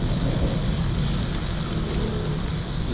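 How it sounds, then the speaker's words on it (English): Steady rain falling in the video game Hellblade: Senua's Sacrifice, a dense continuous hiss with a low rumbling undertone, even and unbroken throughout. "And it started raining."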